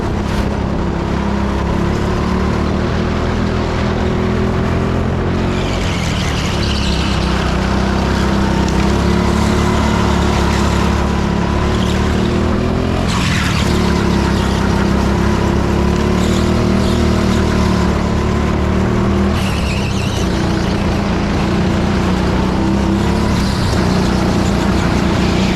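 A racing go-kart engine at Teamsport Edmonton drones loud and continuous through a fast lap, its pitch climbing and dropping as the kart brakes for corners and accelerates out of them, with no talking.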